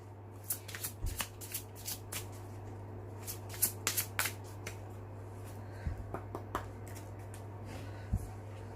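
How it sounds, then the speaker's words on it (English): A deck of tarot cards is shuffled by hand in soft, scattered flicks and riffles, quiet and close against a low steady hum, with no talking. "we will mix this cards, this deck, because we'll need them again"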